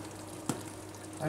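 Quiet sizzling of Bulgarian lean moussaka with rice and tomatoes frying in a pan while being stirred, a steady soft hiss with one brief scrape, no talk.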